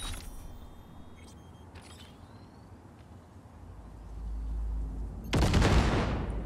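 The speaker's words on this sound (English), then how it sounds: "I love to detonate grenades on people." Grenades detonating in Cyberpunk 2077: a few faint clicks and crackles over quiet ambience, then a low rumble builds into one loud, broad blast near the end.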